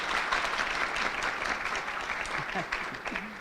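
Diners at a lunch gathering in a banquet venue applaud the catering staff with a steady, full wash of clapping from a roomful of people, and a voice briefly rises over it near the end.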